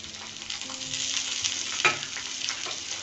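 Onions frying in oil in a pan while being stirred, a soft continuous sizzle with light scraping strokes, close and fairly quiet, no voices.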